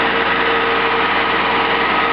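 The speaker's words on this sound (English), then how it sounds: "Those of you with good ears will probably hear that the engine is running quite slowly." A wood gasifier-fuelled generator engine runs noticeably slow, its steady low pulsing chug close and loud, holding an even rhythm throughout with no other sounds.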